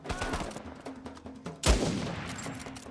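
A sniper rifle shot in Uncharted 4: A Thief's End fires as one sharp, loud crack with a rolling tail, set against game music and ambience, and another faint report comes earlier.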